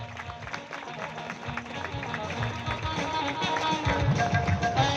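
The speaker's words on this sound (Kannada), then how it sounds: "ಬೇಗ ಚಪ್ಪಾಳೆ ತಟ್ಟಿದ್ರೆ ಬೇಗ ಊಟ ಸಿಗ್ತದೆ, ಅದಕ್ಕೆ ಜೋರಾಗಿ ಚಪ್ಪಾಳೆ ಹಾಕ್ರಿ" An audience at an honouring ceremony claps in a dense, steady patter that swells louder toward the end, with some crowd noise underneath.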